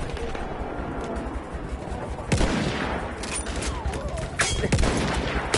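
Scattered gunshots from a PS4 shooter, a few sharp louder cracks over a busy backdrop of distant firing and battle noise, with a voice faintly underneath.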